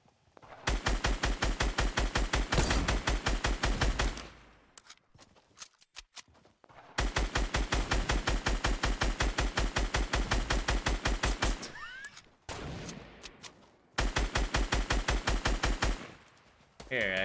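Fortnite Battle Royale gunfire rattles out in long rapid automatic bursts, three loud sustained strings of shots separated by short quieter gaps with scattered game effects.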